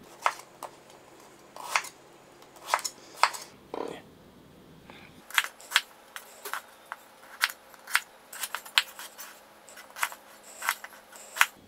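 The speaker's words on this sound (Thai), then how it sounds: "นี่ก็หั่นให้ได้เป็นชิ้นขนาดที่เราต้องการนะครับ" A knife cuts and peels ash gourd in a kitchen, giving crisp, irregular close-up slicing and scraping clicks in a steady rhythm, with a brief low rumble partway through.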